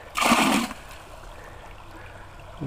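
Bucket classifier sloshed in water to sort gravel for a lexan gold sluice, a short burst of splashing and swirling water followed by quiet trickling and a faint splash at the end.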